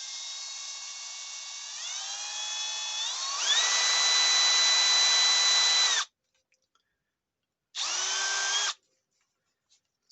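A Milwaukee M12 hammer drill runs at speed 1, loud and close. It whines steadily and climbs in pitch as it spins up over about six seconds, cuts out, then fires off one more short burst, with no talking.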